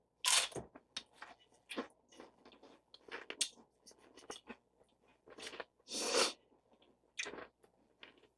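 Someone chews crunchy funnel cake close up: irregular bursts of crisp crunching, some short and some longer, separated by quieter gaps.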